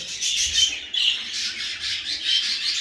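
Pet budgerigars kept in pairs for sale, including a cinnamon blue female and a classic blue male, give a steady stream of close, scratchy squawks and chatter with no pauses.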